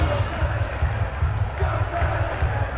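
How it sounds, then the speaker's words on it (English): A large outdoor crowd at a Tottenham Hotspur Europa League victory parade in London roars continuously for head coach Ange Postecoglou, a dense, loud, sustained wash of cheering with a deep rhythmic pulsing underneath. "the biggest cheer for the head coach"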